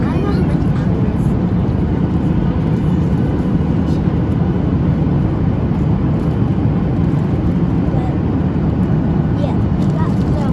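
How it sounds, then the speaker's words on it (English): A steady, loud roar of airplane cabin noise in flight, a constant low rumble and hiss that never changes. "So we're in the airplane"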